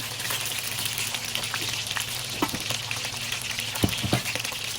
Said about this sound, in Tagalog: Nagiliparan ang mga mantika.